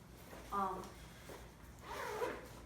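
Zipper on a Ruffwear dog harness pulled in two short bursts, close and fairly quiet, with a person talking around it.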